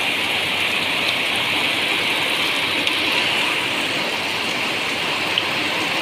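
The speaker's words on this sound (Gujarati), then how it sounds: "કાળા ડિમાન્ડ આકાશમાંથી વરસાદ વરસી રહ્યો છે" Heavy rain pours down over farmland with standing maize crops in Dhanpur taluka. It makes a dense, even hiss that stays loud and unbroken throughout, with no voices.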